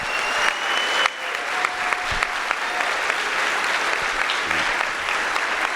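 A conference audience applauding the Curator staff at an Excellence 2019 event, sustained dense clapping from a large crowd that holds steady throughout.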